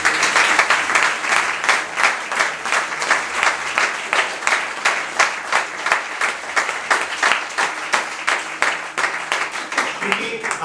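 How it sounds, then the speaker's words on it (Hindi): A church congregation claps hard for each other during a prayer service, a dense, loud and continuous patter of many hands with slight rhythmic swells, close and filling the whole stretch. "और एक जोरदार ताली आप एक दूसरे के लिए भी बजाएं"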